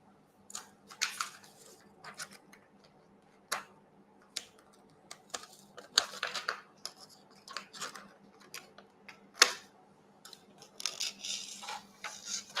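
Scissors snip away excess lining paper from a cake tin, a series of sharp, irregular cuts and rustles spread across a quiet room, close and fairly faint, with no voices.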